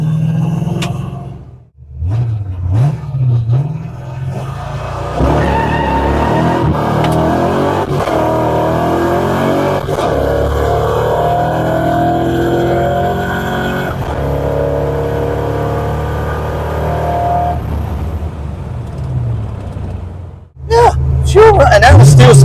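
A notchback car revs and accelerates hard with its wheels spinning and the carburetor bogging, a loud, rough engine roar holding steady for many seconds before cutting off, with voices briefly audible at the start and end.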